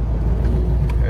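A car with a failed transmission pulls away in first gear, a low, steady engine rumble close by with a voice over it.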